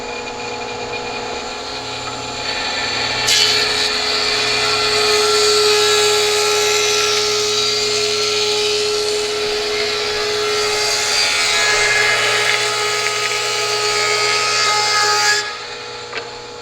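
A Powermatic 15-inch helical-head planer whines steadily as it cuts wood, the pitch deepening under load for about twelve seconds before easing back to its idle hum.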